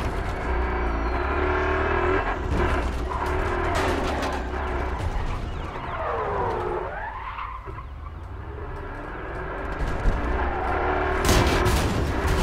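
A car driving in the video game Battlefield Hardline, with loud tire skids and swerving engine noise, a sweeping pitch change in the middle and sharp bangs like gunfire scattered around it.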